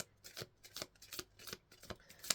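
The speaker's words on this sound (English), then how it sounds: "These are just the worst cards to shuffle." Stiff tarot cards are shuffled by hand up close: about eight quick papery riffles and flicks in an uneven rhythm, with no voices.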